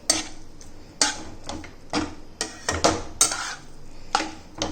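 A utensil scrapes and taps against a cooking pan while lemon coriander prawns are mixed, a close series of sharp metallic clinks and scrapes about once a second.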